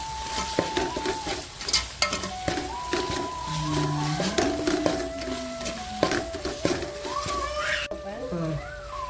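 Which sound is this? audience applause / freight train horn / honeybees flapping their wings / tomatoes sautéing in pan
tomatoes sautéing in pan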